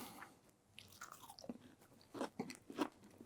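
Close, quiet chewing and crunching on a fried doughnut made from a Civil War era recipe, with several distinct bites and mouth sounds in an otherwise silent room.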